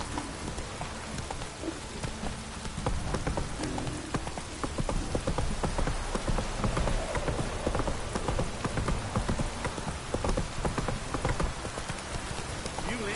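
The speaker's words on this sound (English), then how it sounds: "This downpour's a bastard, it is." Heavy rain downpour in The Witcher 3 video game: a dense, steady hiss of rain on surfaces with scattered patters, plus clopping hooves and occasional game voices underneath.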